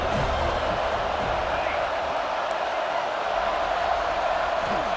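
A large stadium crowd roars steadily from the stands during a third-down red zone play in the EA Sports College Football 26 video game, a dense continuous wash of cheering that stays loud throughout.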